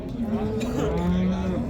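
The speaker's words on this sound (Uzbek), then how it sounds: "Yosh bolali sigirchalar." Cows with young calves moo at a livestock market in Kitob, a long low drawn-out lowing close by, with faint crowd chatter in the background.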